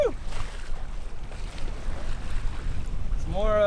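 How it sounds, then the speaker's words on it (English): Strong wind and rushing big waves buffet a sailboat out on Lake Erie, a steady, loud roar of water and wind noise on the microphone that swells toward the end. "We got some nice big waves, well, big for us anyway."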